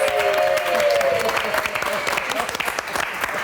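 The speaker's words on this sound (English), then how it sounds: "Round of applause." A studio audience applauds warmly on a television morning show's 25th anniversary broadcast, steady and close, with a voice briefly heard over the clapping.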